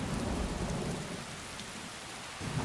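Heavy rain hisses steadily in a Skyrim thunderstorm while a low rumble of thunder rolls beneath it, dense and close throughout the short stretch.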